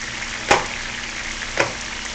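Chicken fries in pans for a piccata dish, a steady soft sizzle with two sharp brief clatters or spatters about a second apart, no talk.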